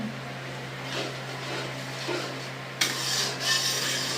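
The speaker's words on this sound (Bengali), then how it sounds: "আমি কিন্তু একটু বসলাম এই পেঁয়াজটা নাড়া দেওয়ার জন্য" Onions being stirred in a pan during home cooking for a family meal: a steady scraping, rubbing sound of the spoon against the pan, close and continuous, with louder scrapes toward the end over a low constant hum.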